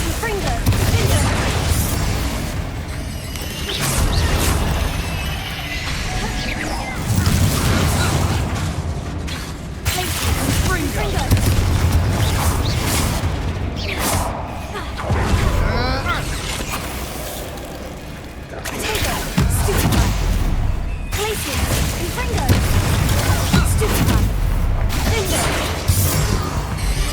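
Spell blasts of the Confringo fire curse crash and boom repeatedly in the Hogwarts Legacy video game, broken up by other spell effects and a constant wash of battle noise, with spoken incantations heard over the combat.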